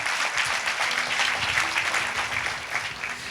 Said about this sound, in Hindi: ताली बजा के प्रभु को आदर करें।